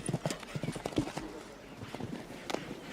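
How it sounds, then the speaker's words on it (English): Hooves of a big-striding show jumping horse clip-clop across an arena at a Nations Cup event in La Baule, quick uneven footfalls close by with a commentator talking over them. "Big striding horse."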